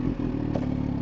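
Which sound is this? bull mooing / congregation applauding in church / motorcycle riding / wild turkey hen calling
motorcycle riding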